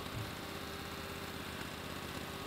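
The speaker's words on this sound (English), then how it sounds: "big red tractor, and he's cultivating like a good one." A big red tractor pulling a cultivator in the farming video game Farm Expert 2016 gives off a steady, droning engine hum at a constant, moderate level, with no talk.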